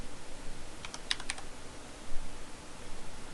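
A handful of quick computer keyboard keystrokes are struck in a short cluster over a steady background hiss, with no talking.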